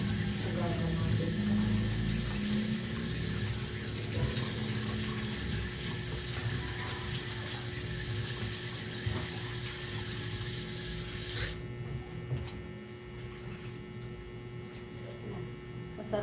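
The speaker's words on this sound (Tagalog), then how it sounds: "huhugasan natin ang ampalaya." Tap water running steadily while salted ampalaya (bitter melon) is rinsed in a kitchen sink, a continuous splashing hiss over faint mains hum that drops off near the end.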